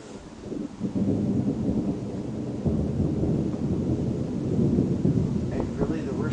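Thunder from a lightning storm over the Saskatchewan prairie near Saskatoon rolls as a continuous low rumble for several seconds, with rain and wind noise underneath.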